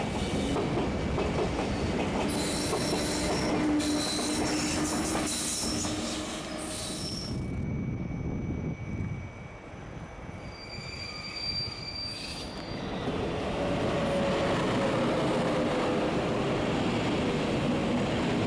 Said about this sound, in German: In der Gegenrichtung ist ein doppelteiliger ICE2 nach München unterwegs.